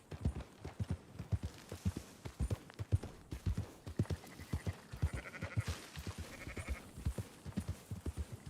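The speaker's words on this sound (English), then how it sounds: "Marston, why don't you leave the sheep to me?" Sheep bleat in a video game, with faint nasal calls rising over steady, rhythmic clip-clop hoofbeats of a ridden horse; everything sounds quiet and a little distant.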